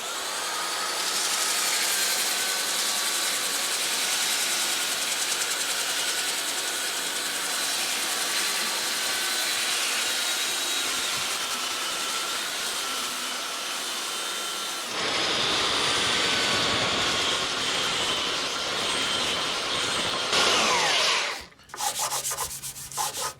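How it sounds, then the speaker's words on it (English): A belt sander and then a random orbital sander work a madrone wood slab, a loud continuous grinding rasp that shifts in tone partway through before the machine winds down with a few stops and knocks at the end. "now I'll take out the saw marks with the belt sander, finish it off with my random orbital."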